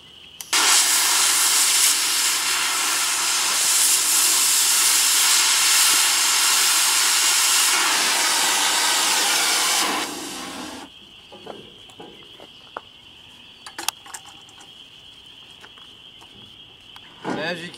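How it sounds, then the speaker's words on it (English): A cutting torch roars as a loud, steady blast for about ten seconds while blowing off a weld on steel pipe on a car hauling trailer, then cuts out, leaving a thin hiss and scattered clanks. "take our cutting torch, and it's called, you blow the weld off"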